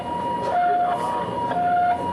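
Ambulance siren arriving at the scene of a two-car crash on a mountain road bend, a steady two-tone wail repeating over about two seconds amid traffic and street noise.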